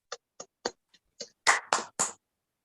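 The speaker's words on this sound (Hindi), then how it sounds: "अगर किसी को समझ में आया हो तो ताली बजा सकता है।" A few people in an audience at a business opportunity presentation clap sparsely: a handful of separate, uneven claps. The first ones are faint, then a few louder ones close together near the end before it goes quiet.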